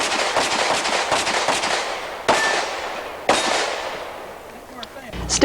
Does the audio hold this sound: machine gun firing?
yes